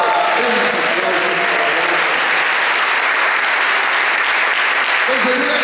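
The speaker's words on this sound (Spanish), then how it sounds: "Demos aplausos." Church congregation applauding, a loud, dense, continuous wave of clapping from many hands that fills the whole stretch, with voices faintly mixed in.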